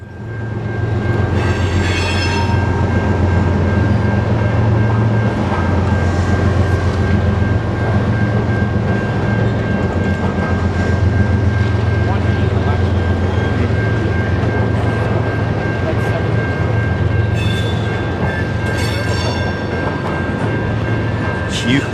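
A freight train rolls past at Pine Junction in Gary, Indiana, a loud continuous rumble of wagons and wheels filling the whole stretch, with a steady tonal whine and occasional squeal above the roar.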